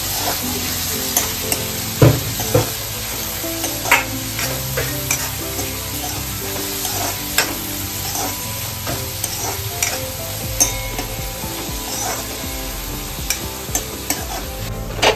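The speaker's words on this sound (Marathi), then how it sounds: "तेलामध्ये कांदा फ्राय करायला ठेवलाय।" Onion frying in hot oil for a dried prawn dish, a steady loud sizzle with crackling pops and occasional scrapes of a stirring spoon, no voices.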